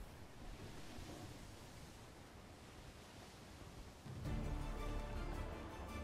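A boat cutting across open water in the survival video game Atlas gives a steady rushing wash of water and wind that swells louder near the end, with no voices.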